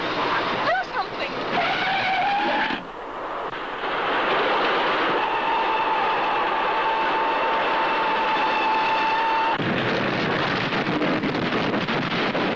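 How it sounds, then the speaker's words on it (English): A train rolls through a station with a loud, sustained roar and a steady high metallic squeal, heavy wind rumble on the microphone, and voices speaking briefly over it. "Yes, look. The train."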